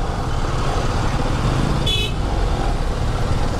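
Road traffic with cars and bikes rumbles steadily nearby, and a single short car horn toot sounds briefly midway.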